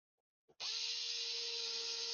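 A power drill switches on after a faint click and then whines at a steady high speed while drilling in stages into a workpiece that could crack, a loud, close, continuous buzzing tone with no voices.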